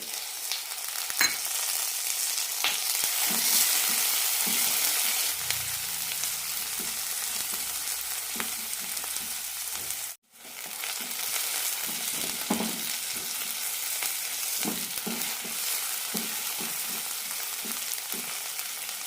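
Onion and tomato fry in a pan for an okra tamarind curry, a steady close sizzle with scattered stirring scrapes and a brief dropout midway.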